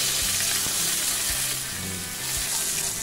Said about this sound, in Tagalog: Gigisahin mo siya hanggang maging color brown.